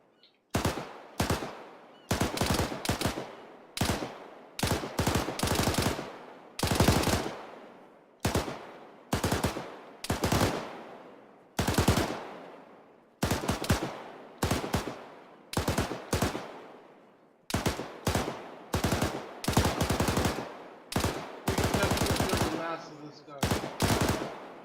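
Heavy rifle gunfire in Arma 3, fired in repeated bursts of loud, sharp shots with brief gaps between volleys across the whole stretch, close and dominant.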